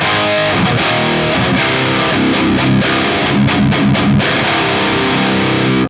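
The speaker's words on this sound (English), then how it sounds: "the lead channel sounds really good too" A heavily distorted electric guitar through a Boss Katana amp's lead channel plays a dense, saturated lead passage, loud and continuous before stopping abruptly.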